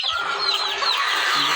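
Several laying hens in an egg-laying flock cluck and cackle continuously in the morning, a busy overlapping chorus of calls heard close by with no talking.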